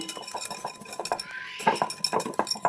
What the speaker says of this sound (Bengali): ভালো করে ফেটিয়ে নিতে হবে।